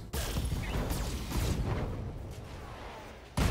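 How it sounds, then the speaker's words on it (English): Mech ammunition cooking off in the BattleTech video game: a dense, loud rumbling blast that sustains for several seconds and slowly fades, followed by a fresh sharp burst at the end. "Ooh, ammo explosion."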